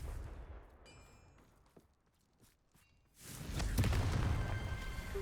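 A Confringo blasting spell bursts in a wizard video game, a sudden loud blast that swells into a rumbling explosion lasting a couple of seconds after a quieter stretch of soft steps and small clicks.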